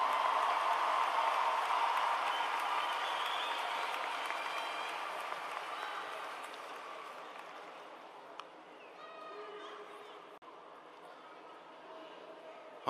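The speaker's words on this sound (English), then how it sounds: "Please give them a round of applause" Broad applause from a large crowd at a high school graduation ceremony, fairly distant and steady at first, then gradually fading into scattered claps and quiet room noise.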